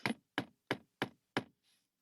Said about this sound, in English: the ringing in my ears is interrupted by a knock